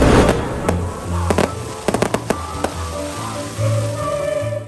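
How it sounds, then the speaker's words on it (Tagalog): A fireworks display at a Christmas lighting ceremony in Bacolod City crackles and pops in a series of sharp bursts, some clustered in quick succession, over a low rumbling background. "Isa ka fireworks display ang nag-highlight sa simultaneous Christmas lighting ceremony"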